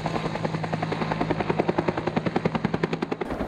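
A heli-logging helicopter's rotor thumps in a steady, rapid rhythm of chopping pulses, fairly close and continuous with no voices over it.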